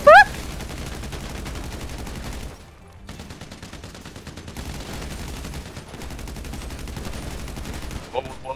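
Rapid, sustained automatic gunfire in Grand Theft Auto V rattles almost nonstop, with a brief pause midway and a few sharp electronic bleeps, loud and close like game audio.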